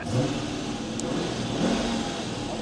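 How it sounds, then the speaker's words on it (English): A car engine hums at idle, its lifter tick gone, and then briefly revs up, rising in pitch before settling back, moderately close with no talking. "Let's rev it a little bit."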